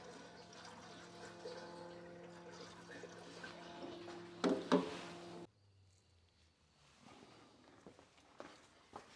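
Warm engine oil drains from a Toyota Land Cruiser HDJ78 Troopy in a steady trickling stream for several seconds, with a few clanks, then stops, leaving faint handling noises.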